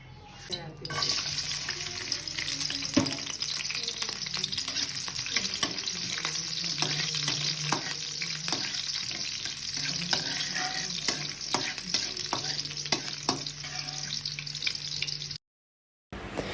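Squid for adobong pusit fries in a pan with a steady, close sizzle and crackle, broken by scattered pops and stirring scrapes, with no talking.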